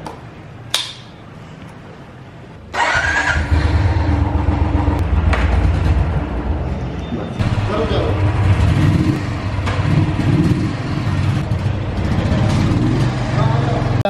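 Steady, loud road noise from a Royal Enfield motorcycle riding on a road during an ABS test, with wind and engine rumble after a sudden onset and no talk.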